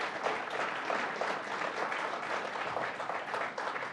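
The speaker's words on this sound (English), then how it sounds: "Let's give another round of applause to our district attorneys." A crowd at a New York state budget announcement claps for district attorneys, a continuous, fairly distant wash of applause that holds steady for the whole few seconds without letting up.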